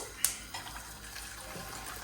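Hot water is poured into a pan to boil tagliatelle. The short, soft liquid pour is close by and quiet, with a small splash at the start.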